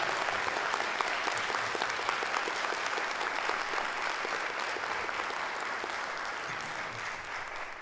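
Concert audience at Sala Cecília Meireles breaking into sustained, dense applause after a musician is introduced, steady and loud throughout with many hands clapping close and far.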